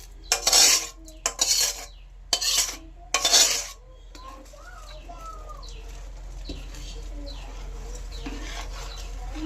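A spoon stirring sugar into milk in a metal pot for sweet yogurt, a few quick bursts of scraping clinks at the start, then a quiet room with faint birdsong in the background.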